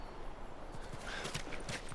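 Horses clip-clopping in the video game The Last of Us, a soft, steady patter of hooves that grows denser partway through, moderately loud over a constant game background.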